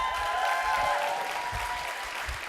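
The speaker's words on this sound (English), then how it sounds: "Give him a round of applause." An audience at a conference gives a round of applause, dense clapping that swells and then tapers off over a couple of seconds.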